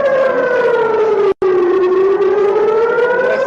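Loud air raid sirens wail steadily near the Israel–Gaza border, a sustained rising and falling civil defense tone that fills the scene, broken only by a split-second dropout.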